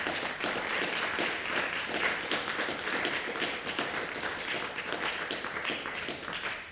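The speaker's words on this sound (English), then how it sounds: "A round of applause." Audience applause for the speakers at the close of a panel on refugee rights, a steady moderate wash of many hands clapping that holds evenly for several seconds, heard from somewhat back in the room.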